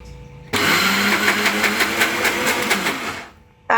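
A kitchen blender grinds soaked lentils in a short burst of about three seconds, a loud whirring motor roar that starts abruptly, holds steady, then winds down before a brief restart.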